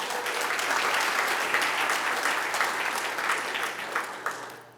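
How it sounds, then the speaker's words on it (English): An audience at a city's state of the city address applauds, a dense, continuous clapping that holds steady and then tapers off toward the end. "you should really give yourself a round of applause"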